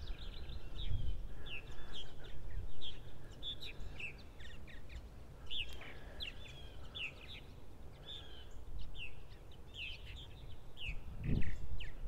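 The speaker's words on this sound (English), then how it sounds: "take a look at the action over here with the birds flying" Purple martins call repeatedly in quick, chirpy gurgling bursts as they fly around, several birds overlapping at moderate distance over a soft breezy outdoor rumble, with no talking.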